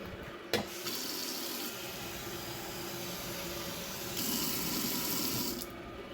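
Water runs steadily into a cooking pot for a batch of strawberry conserves, a continuous hiss that swells slightly louder toward the end, with no talking.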